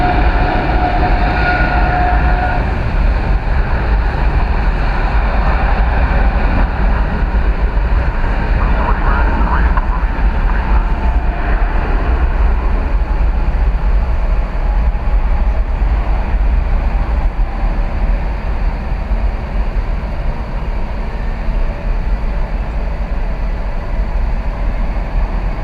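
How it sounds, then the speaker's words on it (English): An Air Canada airliner arriving at DFW Airport, a loud continuous roar of engine rumble filling the whole stretch with no letup, while a person talks over it at times. "Air Canada coming in."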